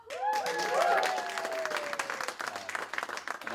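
Audience at a performance event bursting into cheering and applause, a loud wash of clapping with whoops and shouts that peaks early and then tapers off over a few seconds.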